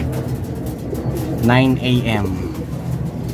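Pigeons coo softly in the background, a low steady murmur under a voice speaking nearby.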